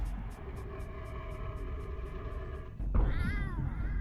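A house cat's meow played as a stream sound effect: a drawn-out, tonal meow followed by a second rising, wavering meow near the end, close and clear over a low hum.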